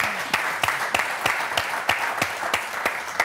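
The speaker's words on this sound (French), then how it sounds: "Et on applaudit très fort Martine et Maryse." Studio audience on a French game show, Motus, clapping in a dense steady wash with a regular rhythmic beat of unison claps running through it, fairly loud and sustained.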